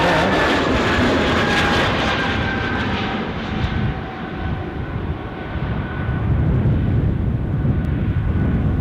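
China Southern Boeing 777 jet airliner at Amsterdam Schiphol, a broad continuous roar of jet engines held steady at moderate distance, swelling slightly toward the end.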